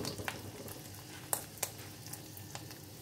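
Fish egg fritters (pakoras) frying in hot oil in a pan, a steady close sizzle with scattered sharp pops and crackles, no talk.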